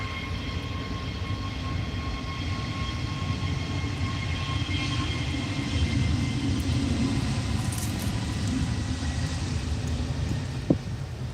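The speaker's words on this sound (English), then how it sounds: "it's the EasyJet A321 Neo rolling" EasyJet Airbus A321neo rolling at Tenerife airport, a steady deep engine rumble and roar heard from some distance, sustained and even with no speech.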